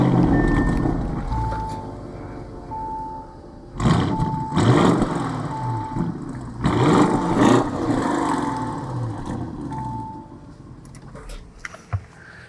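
A 2022 Audi SQ7 Premium Plus fires up with a warning chime and a throaty idle, then barks through several loud revs with a crackling tail, heard up close.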